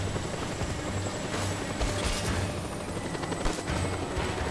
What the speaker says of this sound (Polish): Słyszę helikopter.